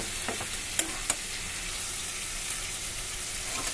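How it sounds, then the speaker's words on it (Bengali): Eggplant fries in hot oil in a pan with a steady soft sizzle, broken by a few quick scrapes and clinks of a spoon stirring, nearby with no talking. "বেগুনটা ভাজা হয়ে গেছে"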